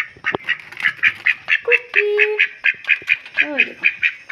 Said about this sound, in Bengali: এই দেখুন, হাঁসকে খাবার দিয়ে রেখেছি।